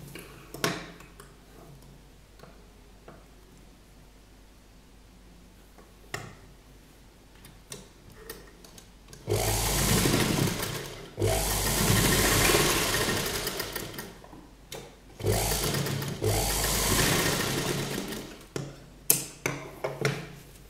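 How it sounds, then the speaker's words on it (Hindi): Sewing machine stitching a cord loop onto a jacket, starting after quiet handling clicks and running in loud close bursts of a few seconds each with short breaks. "इसको बस यहाँ पर हम सिलाई लगा लेंगे"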